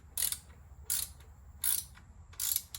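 A ratchet wrench tightens bolts on an old engine, giving four short bursts of rapid clicking strokes spaced under a second apart, close and fairly quiet against a low background hum.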